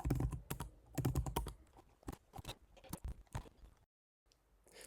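Quick, close keystrokes on a computer keyboard while filling in a web form, bursts of clicking broken by short pauses, with a brief silent gap near the end.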